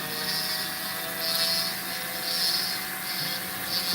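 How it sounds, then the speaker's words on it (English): A small ball burr grinds metal while setting a CZ stone in jewellery, producing a steady high whine from the rotary tool with faint pulsing swells as it shaves material, close and continuous. "I use a little ball burr. So I'm just kind of carefully shaving away my material."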